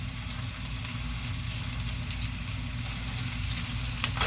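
Hamburger, potato, red onion and garlic fry in a pan, giving a steady, quiet, even sizzle with a small clink near the end, no talk.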